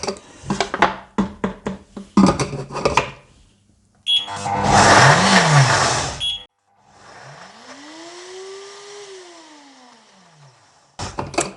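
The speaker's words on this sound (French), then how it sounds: "Dans mon super mixeur" A blender whirs through bananas for a banana-chocolate mix: a loud burst of grinding motor noise, then a quieter motor whine that rises and falls, with clicks and knocks before and after.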